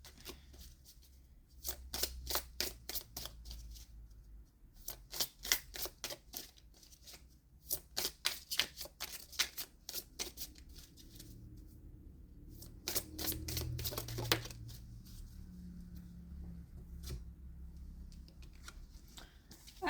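Oracle cards shuffled by hand in quick crisp bursts of riffling clicks, several runs separated by short pauses, close and fairly loud, with a soft thud and rustle near the end.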